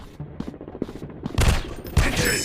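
Gunfire in the shooting video game PUBG: a loud, close burst of rapid shots, with sharp reports spaced through the first second, then heavier blasts near the end, with no talk.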